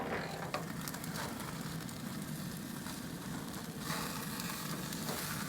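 Steak sears on a Z Grills pellet grill with a soft, steady sizzle and crackle that stays fairly quiet and even from start to finish.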